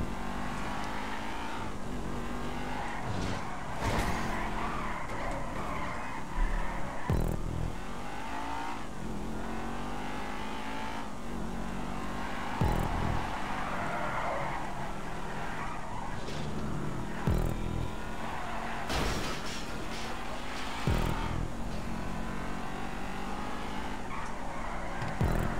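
Race cars in the video game GTA V roar through a Formula 1–style race, engines revving hard with loud tire squeals and skids that keep surging and fading.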